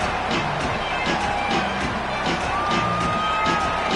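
A home crowd at an SMU college football game cheers and whoops before a kickoff, a loud sustained roar of many voices with scattered shouts rising above it.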